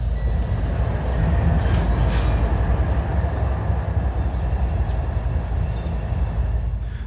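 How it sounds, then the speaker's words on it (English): A freight train passes in Lowell with a loud, continuous rumble and rolling clatter close by, holding steady throughout. "It's a freight train."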